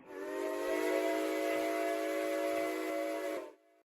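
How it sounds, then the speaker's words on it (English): Steam whistle of the American Freedom Train in the RO-Scale video game, one long sustained chime-like blast, loud and steady, cutting off abruptly near the end, no talk. "So you hear the whistle."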